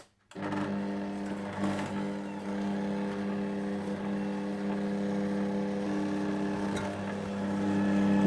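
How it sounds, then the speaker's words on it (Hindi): Electric mixer beating butter and icing sugar, a steady loud motor whine held almost unbroken for several seconds after a brief start, with faint scraping in the bowl. "फिर इसके बाद मक्खन और आइसिंग शुगर को इतना अच्छा बीट कीजिएगा कि ये क्रीमी सा हो जाए"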